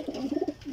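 Flying pigeons (parwazi kabootar, a flock of 24 show birds) give a short run of soft, close cooing notes, several low throaty pulses in quick succession.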